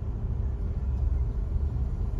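A car being driven produces a steady low engine rumble and road noise from inside the cabin, continuous and fairly loud, with no talking.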